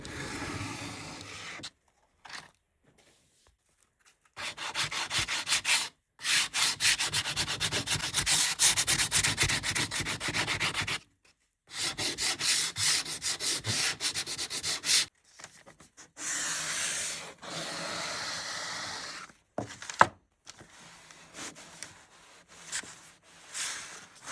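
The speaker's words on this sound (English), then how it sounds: "I just roughed up some of the edges with the sandpaper and went over the front of the surface of the wood with the sandpaper as well" Sandpaper rubs over the edges and face of a piece of scrap wood in repeated bursts of scratchy strokes, close and fairly loud, separated by short silent gaps.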